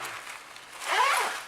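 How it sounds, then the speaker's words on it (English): A zipper on a lightweight travel backpack is pulled open in one quick, close rasping run lasting about a second, alone and fairly soft. "Double zipper, as you guys can see."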